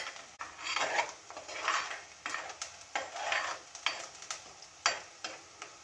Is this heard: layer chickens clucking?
no